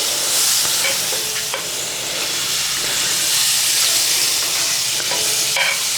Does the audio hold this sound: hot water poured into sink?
no